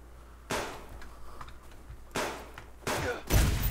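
Gunshots in the video game Subsistence: four sharp, loud bursts spaced irregularly over a quiet, faint background hum, each with a short decaying tail, the last the heaviest and most bass-rich.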